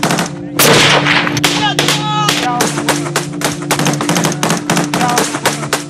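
Rapid bursts of gunfire and single gunshots crack repeatedly, loud and close, in an irregular volley amid a tense conflict scene with a steady tone running underneath.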